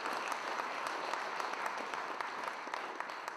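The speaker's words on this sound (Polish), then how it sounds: "Brawa dla Państwa!" Steady, dense audience applause fills an awards ceremony for a regional school essay contest, many hands clapping at once, heard somewhat distantly and evenly throughout.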